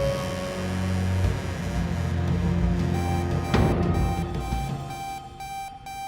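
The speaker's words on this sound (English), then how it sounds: "I kept hearing like a loud, kind of like a beep noise." Steady electronic beeping tone rings loudly and continuously over a hum, with layered tonal pulses and no one talking.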